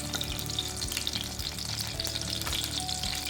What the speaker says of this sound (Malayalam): ഇതിൻ്റെ തന്നെ ബാക്കിയുള്ള വഴുതനങ്ങയോടെ ഞാനങ്ങ് ഫ്രൈ ചെയ്തെടുക്കുകയാണ്.